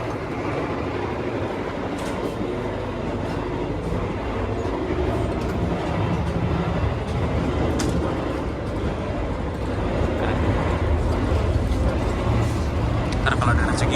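Steady rumble and rhythmic rattling fill the executive-class cabin of the moving Taksaka passenger train on the Gambir to Yogyakarta route, a constant close, low roar with faint voices underneath.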